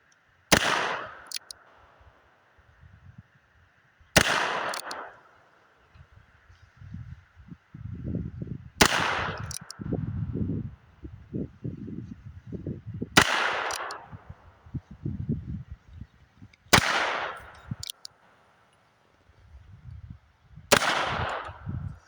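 Six sharp gunshots from a Heritage Buffalo Bill revolver at an outdoor range, spaced about four seconds apart, each loud crack followed by a short ringing decay, with low rumbling handling noise between shots.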